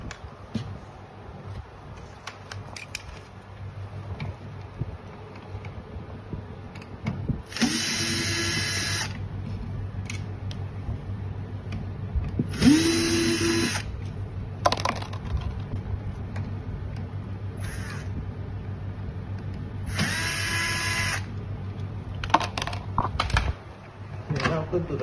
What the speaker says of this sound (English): Remove the three screws in front at the bottom.